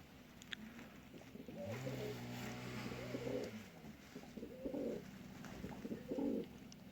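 Pigeons coo softly nearby in several short, throaty bursts, with a low rumble of distant traffic underneath.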